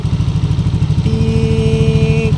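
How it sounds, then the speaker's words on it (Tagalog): Yamaha Aerox scooter engine chugging loudly and close, then a thin steady whine appears over the rhythmic pulsing after it is shut off with the kill switch. "pag in-off natin sa kill switch, may marinig pa tayo yan na parang huni"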